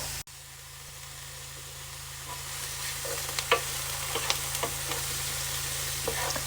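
Onions frying in a pan that got too hot, giving a steady, gentle sizzle and hiss that grows slightly louder, with a few light clicks and scrapes and no talking.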